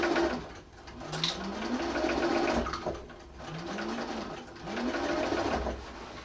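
A sewing machine stitching a seam at a 3/4 inch allowance in a quilting class runs in steady bursts that rise and ease off, with a pigeon cooing faintly in the background.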